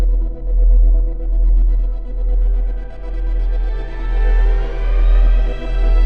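Layered synth tones swell and bend upward in pitch over a deep, pulsing bass, building steadily with no voices.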